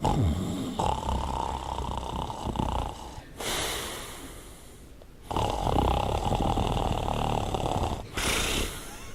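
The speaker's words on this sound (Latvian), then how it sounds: "Vai arī, ja viņi sāks krākt." Loud snoring from a sleeping person in a room, rough rasping breaths repeating in long cycles with brief pauses, close and dominant throughout.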